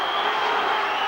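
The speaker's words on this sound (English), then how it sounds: "Listen to the crowd here. They're lifting." A rugby league stadium crowd roars steadily, a broad, even wash of cheering with faint clapping, sustained and distant with no pauses.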